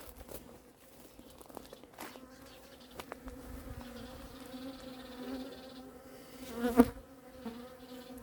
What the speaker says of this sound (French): Ça c'est pas des abeilles d'éleveurs ça.